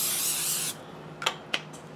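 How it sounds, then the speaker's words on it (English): Cooking spray blasted into a big pan in a single loud hiss lasting under a second, followed by a few sharp clicks and taps of the can or pan. "Give it a fair spray with some food relief."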